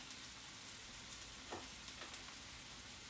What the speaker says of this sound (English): So we're just gonna go ahead and let that saute up real quick